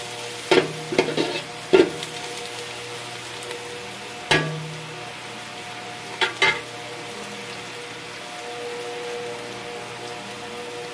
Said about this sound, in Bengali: তেজপাতা দিয়ে দিলাম, এলাচ লবঙ্গ সহ।